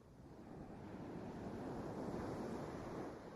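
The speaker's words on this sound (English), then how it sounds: "Ocean waves." A sampled ocean-waves sound effect: a soft, continuous wash of surf that swells gently and holds steady, quiet and alone with no voices.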